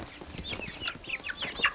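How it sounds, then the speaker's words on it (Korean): A hen and her chicks cluck and peep in spring sunshine in the yard of an old traditional house, with soft clucks and a run of short, high chirps coming close together. "할머니는 병아리에게도 따스한 봄볕을 나눠주려고 하는데요."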